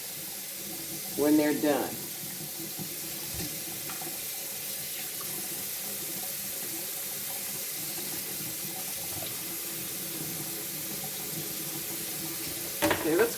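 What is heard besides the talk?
tap water running, rinsing broccoli in sink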